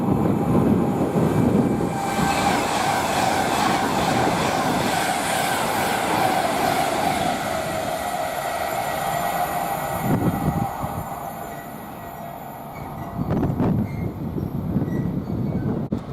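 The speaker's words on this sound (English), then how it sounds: "we've got 390-114 barrelling through from Manchester Piccadilly to London Euston" A loud Class 390 electric passenger train roars through Nuneaton on the West Coast Main Line at speed, a sustained rushing rumble with faint wheel squeal, easing briefly before another surge; no voices.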